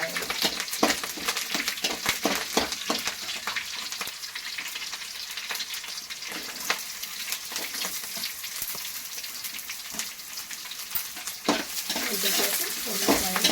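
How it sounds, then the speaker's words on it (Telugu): Sliced onions with green chillies frying in hot oil in a pan for Andhra-style gobi manchurian, a continuous crackling sizzle broken by repeated scraping and stirring strokes of a spoon against the pan, close and without talk. "ఉల్లిపాయలు దూరగా వేయించుకోవాలి"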